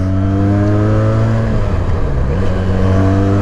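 A 2020 Benelli 302 BN motorcycle engine revs steadily with a strong, continuous low drone, dipping briefly mid-way before climbing back up, loud and close throughout.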